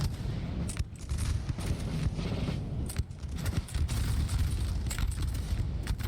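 Musket and cannon fire in a Napoleon: Total War 3 multiplayer battle, with scattered volleys and sharp cracks over a dense, continuous battlefield rumble, fairly distant and muffled, no voices.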